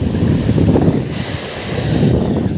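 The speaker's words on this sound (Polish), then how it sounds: "wiatr wieje cholernie" Strong wind roars across the microphone by the sea during a storm, with waves and surf crashing beneath; a loud, continuous rumbling gust with no pause throughout.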